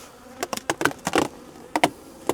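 Honey bees crowded in a hive feeder where they are building comb, giving a close buzzing with a run of short, sharp bursts of wing noise that rise and fade irregularly against a low background hum.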